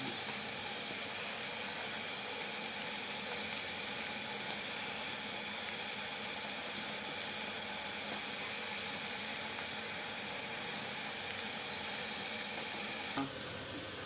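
Green chillies sizzle softly in chicken curry while being stirred, a steady low hiss with faint scraping, quiet and unbroken throughout.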